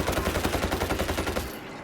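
A rapid burst of automatic gunfire in the video game World War Z rattles for over a second, then cuts off, leaving quiet background.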